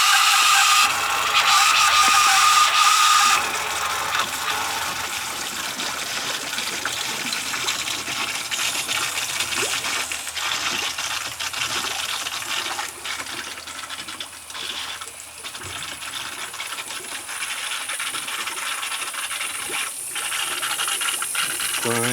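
A water softener regenerating, water gushing and trickling through the unit with a loud rush at first, then a steady flowing hiss with faint mechanical ticking, no talking.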